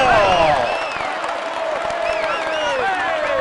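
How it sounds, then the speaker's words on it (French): A large crowd at the Tour de France claps and cheers steadily for the yellow jersey winner, with whistles and whoops rising over the applause while an announcer talks over it. "vous pouvez l'applaudir bien fort"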